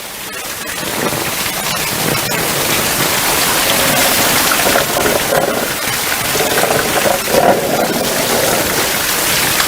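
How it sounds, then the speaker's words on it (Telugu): Heavy rain pours steadily in Hyderabad, heard from a terrace as a loud, dense, unbroken hiss of water drumming on surfaces for the full stretch, with no voices. "టెర్రస్ మీదకి వచ్చినప్పటికీ మీరు చూస్తే వర్షం ఇదిగోండి"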